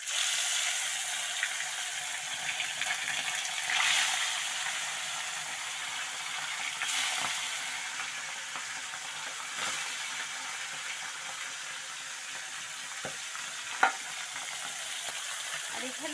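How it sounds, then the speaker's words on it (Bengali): Small fish fry in hot oil with a steady, close crackling sizzle throughout, plus a few sharper pops and light utensil clinks along the way. "মাছগুলো ভেজে নেবো"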